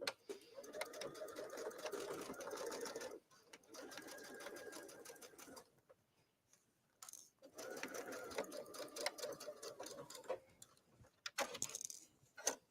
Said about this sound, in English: I'm sewing just outside of that seam line.